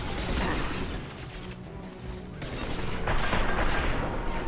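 Dense, continuous gunfire and explosive rocket blasts from a Mass Effect 2 firefight, loud and sustained with a swelling burst near the end and no clear talk over it.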